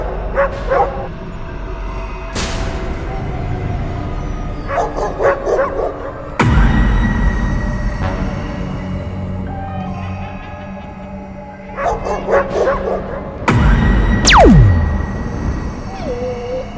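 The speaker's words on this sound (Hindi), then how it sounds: "बग्घी को देखते ही गांव के कुत्ते भौंकना शुरू कर देते हैं और बग्घी का पीछा करते हैं।" Village dogs bark and yip repeatedly in a staged horror-story soundscape, several dogs calling in bursts near and far, with a sharp falling whine and other effects layered between the barks.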